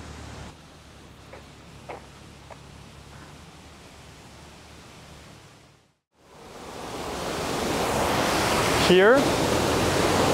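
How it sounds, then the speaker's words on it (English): A river waterfall about 2.5 to 3 meters high at a chateau with a hydroelectric generator: a steady broadband rush, quieter at first, then louder and fuller after a brief dropout, with one short word spoken over it. "you have all the river arriving there, and the waterfall here in the corner"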